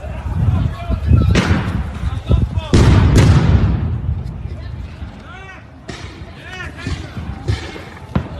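Stun grenades going off during an Israeli forces raid on the Al-Aqsa mosque: several heavy bangs and thuds crowd the first few seconds, then taper into quieter pops with shouting voices and a noisy crowd underneath.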